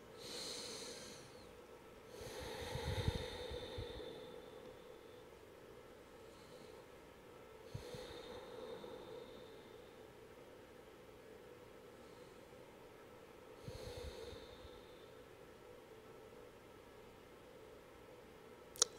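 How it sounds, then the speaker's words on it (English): Slow, steady breathing in and out through the nose during yoga practice, a few soft airy breaths spaced several seconds apart, faint over quiet background hiss. "Just keep breathing in and out through the nose."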